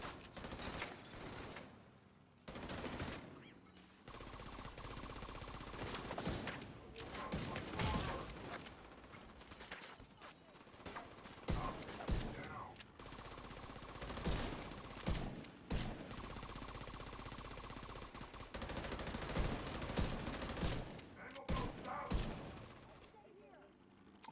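Gunfire in the video game The Division 2: repeated bursts of automatic fire throughout a long combat stretch, fairly loud and close, with brief pauses between volleys and occasional talking mixed in.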